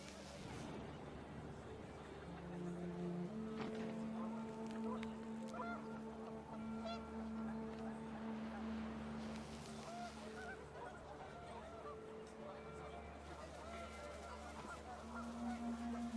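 Panicked geese honk repeatedly in the video game What Remains of Edith Finch, several overlapping calls over a steady windy background, fairly close and moderately loud.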